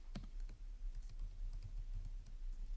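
Steady keystrokes on a computer keyboard while code is being typed, quick irregular clicks running throughout at a moderate, close level with no talking.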